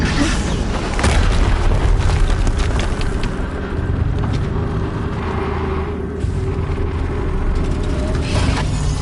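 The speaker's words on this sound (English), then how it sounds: "Another explosion." A heavy explosion in the action game Horizon Zero Dawn rumbles loud and low, then gives way to a long, dense roar of rolling blast noise and machine din that stays intense throughout, with no voices.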